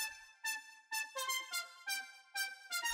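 A Nexus synth layer plays a repeating bright chord-stab pattern of about seven rhythmic hits with rich harmonics, close and steady with no voices.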